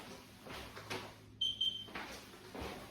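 A short high-pitched electronic kitchen timer beep sounds briefly amid quiet kitchen clatter and background noise.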